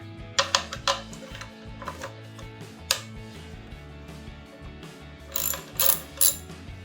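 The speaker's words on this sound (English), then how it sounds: "we're going to remove these with my 10mm because this bracket will go back onto here" A hand ratchet with a 10mm socket backs bolts off a bracket on a 2015-2017 V6 Dodge Challenger, heard as close bursts of sharp rapid clicking separated by short pauses, with no talk.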